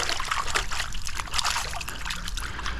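Water pours and splashes steadily at a poolside while chlorine is rinsed off, a close, busy trickling and splattering that runs throughout with no voice.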